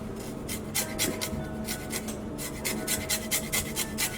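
A handheld rasp grates zest from a lime in a home kitchen, giving a string of close, rapid scratchy strokes in bursts with brief pauses between them.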